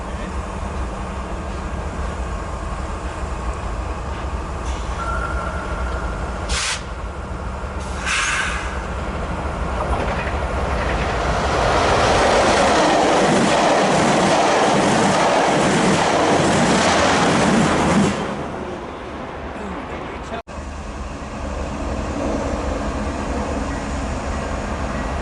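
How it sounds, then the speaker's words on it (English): Metrolink commuter train 719 rolls past at Commerce, a loud, close rumble of wheels and engine that builds to a peak mid-pass, then drops away to a quieter tail, with a couple of sharp clanks along the way. "Here's Metrolink 719 from Paris South to Union Station."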